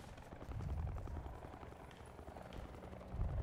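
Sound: helicopter flying overhead in a video game

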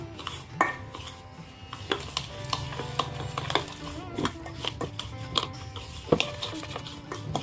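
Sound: stirring flour and country sugar mixture in a pan

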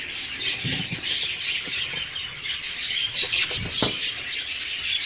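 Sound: budgerigars in aviary with chicks in nest

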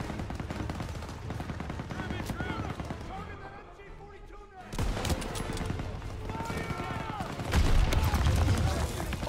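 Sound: MG-42 machine gun fire in Call of Duty WWII video game

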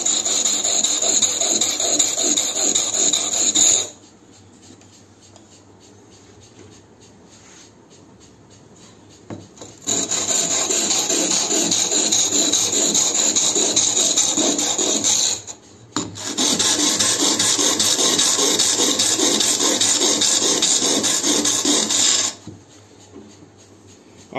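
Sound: sharpening a cutting tool edge with a sharpening stone

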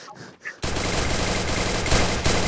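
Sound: long-range charge gun firing in video game Free Fire

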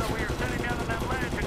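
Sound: machine gun fire in Medal of Honor video game

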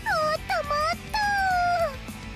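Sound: character imitating a whimpering dog, from a video game

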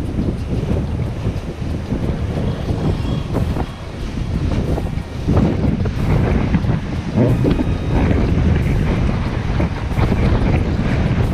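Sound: cruise ship Noordam passing under Sydney Harbour Bridge

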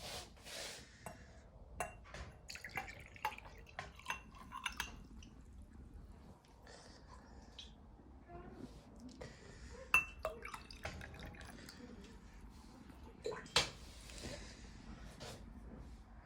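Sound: pouring compote into a glass

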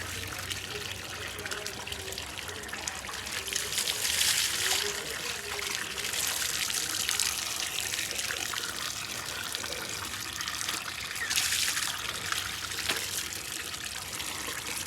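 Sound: water running while drawing water to bathe buffaloes

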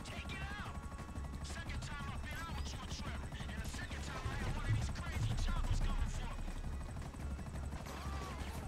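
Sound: helicopter in video game GTA V

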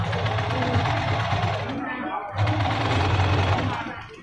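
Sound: sewing machine stitching a bag

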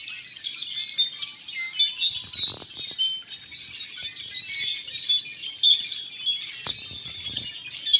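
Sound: thousands of birds calling

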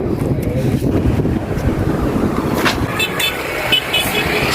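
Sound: cool wind blowing at the beach

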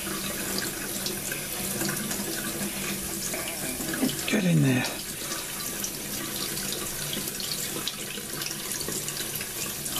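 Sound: cold tap water running

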